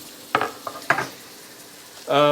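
A few soft clinks and taps, then a sudden loud sizzle as a chopped medium onion hits a hot frying pan, close up.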